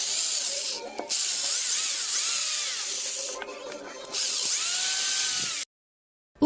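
A drill boring out a slightly deformed shaft sleeve on a homemade Arduino CNC plotter whines steadily and close, with two short pauses in the run before the drill cuts out into silence.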